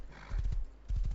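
Horse in the game Rust: two bursts of hoofbeats, three or four close, heavy thuds each, clip-clopping near and loud, with a brief whinny-like tone between them.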